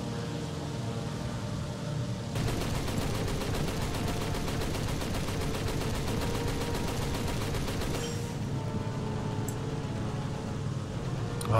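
Sustained machine gun fire from a vehicle in War Thunder, a dense continuous burst of rapid shots lasting several seconds and thinning out near the end over steady background noise.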